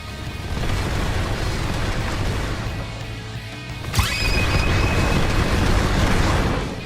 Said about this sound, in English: Dash in with the crazy barrage and it ends with the fiery shockwave.